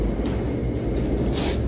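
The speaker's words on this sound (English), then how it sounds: "We have the train coming there." A train rumbles past near a BMW 3 Series repair spot, a steady low roar with faint rattling filling the whole moment, no voices.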